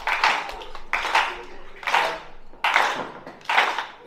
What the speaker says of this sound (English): Can I get a slow clap going?